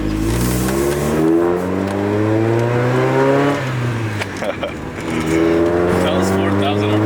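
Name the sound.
car engine revving to 4,000 RPM on track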